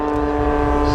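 A steady, droning engine tone comes from an aerobatic aircraft trailing smoke through a slow roll at the Clacton Air Show. The engine holds even power throughout and sounds moderately close.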